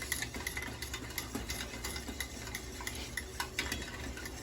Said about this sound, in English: And you just keep on whisking it.